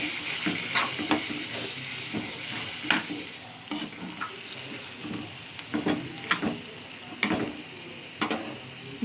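Chicken fry being stirred in a pan, with a spoon scraping and clicking against the metal over a steady sizzle of frying, the strokes coming in irregular bursts close by.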